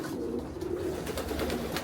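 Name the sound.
breeding hen pigeons cooing in loft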